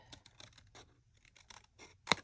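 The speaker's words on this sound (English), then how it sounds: "Just the quiet, soothing noises of paper being cut." Quiet, intermittent snips and soft crinkles of scissors cutting paper, close up, with a sharper, louder snip near the end and no talking.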